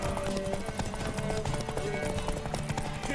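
A horse gallops in the video game The Witcher III: Wild Hunt, its hooves clopping in a dense, steady, continuous rhythm over a busy, loud background.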